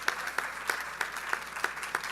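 An audience applauds at a national radio and television event with steady, evenly spaced claps over a diffuse wash of hall noise, moderately loud and without speech.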